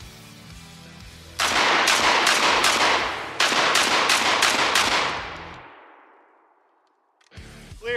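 A Vepr 12 12-gauge shotgun fires at turf tires in a rapid string of about ten close, loud blasts, then the echo fades into a long decaying tail before a brief clatter at the end.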